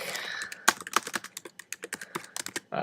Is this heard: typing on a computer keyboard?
yes